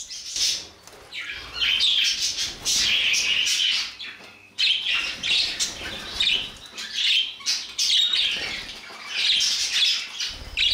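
Budgerigars squawk and chirp busily inside a cage, a dense stream of shrill, overlapping calls close by with only brief pauses.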